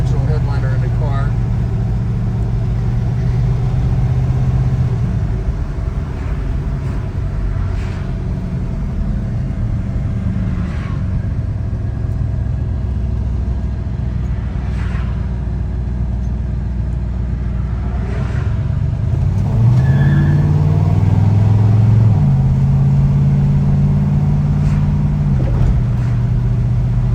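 A 1968 Oldsmobile 442 engine runs steadily as the car drives down the road, a low continuous rumble with shifting tone and a rise near the end, while someone talks over it throughout.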